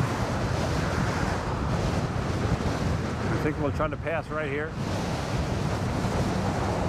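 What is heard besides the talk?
strong gusty headwind blowing at the beach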